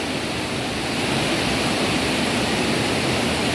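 Water pours over a dam spillway in a steady, loud, broadband roar that stays constant throughout, with no voices.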